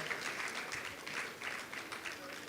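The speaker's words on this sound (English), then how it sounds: "please a round of applause for them once again." An audience applauds the panelists at a tech testing event, a short burst of scattered clapping heard at moderate distance.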